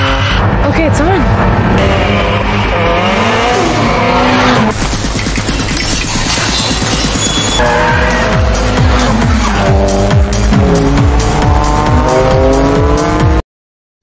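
Race cars tear along at high revs with loud, sustained tire squeals and skidding, engines roaring and shifting pitch over a dense, constant wall of sound.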